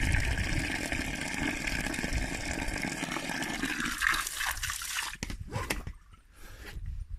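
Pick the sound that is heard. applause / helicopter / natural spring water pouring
natural spring water pouring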